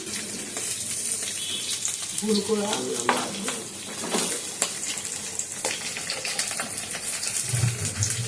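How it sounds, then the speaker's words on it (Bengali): Spice paste with onion, ginger, green chilli and garlic frying and being stirred in fish oil in a pan for a cabbage ghonto, a steady sizzle broken by scraping stirs and clinks, with a voice talking at times over it. "মশলাটা একটু ভেজে নেব"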